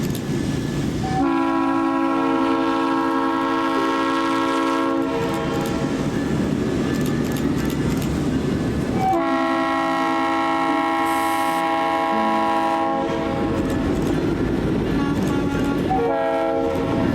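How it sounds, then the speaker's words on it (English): A KCT Bumblebee GP35 locomotive sounds its RS3L multi-chime horn at a road crossing in Kansas City, three loud sustained blasts near and clear, the middle one following a short gap, over the rumble of the train. "Leading was one of the Bumblebee GP35s, and thankfully this train crosses over the road, so we got to hear its amazing RS3L horn."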